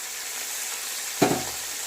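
Frying and stirring in a pan while cooking pomfret fish curry: a low steady sizzle, then one sharp scrape and clatter of stirring partway through, close and fairly loud.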